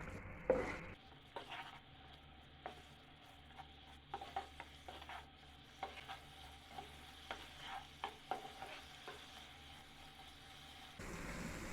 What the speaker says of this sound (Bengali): চুলা মিডিয়াম ফ্লেমে রেখে অনবরত নাড়াতে থাকবো যাতে চাটনিটা ঘন হয়ে আসে।